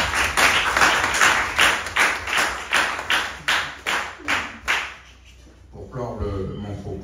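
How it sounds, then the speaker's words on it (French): Audience at a civil protection training session for journalists claps in about a dozen sharp, rhythmic bursts, close and fairly loud, before the clapping stops abruptly and a voice starts speaking. "Je pense qu'on peut les applaudir"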